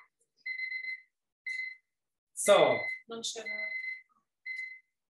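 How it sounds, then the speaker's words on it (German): A kitchen timer rings in short repeated electronic trills while broccoli cooks, pausing between bursts, with a person speaking briefly in the middle. "jetzt, Timer klingt."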